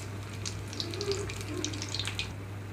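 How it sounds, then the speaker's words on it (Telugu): Sweet wheat flour and jaggery burelu fry in oil over a low flame, giving a continuous gentle hiss with scattered small crackles over a low steady hum. "ఇక్కడైతే మరి నేను హై ఫ్లేమ్లో ఉంచకుండా లో ఫ్లేమ్లో ఉంచి వేయించుకుంటున్నాను"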